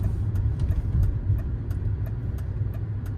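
A 1995 BMW 840ci E31 V8 rumbles and burbles steadily while cruising on a freeway, a deep continuous engine drone with faint ticking above it and no talk.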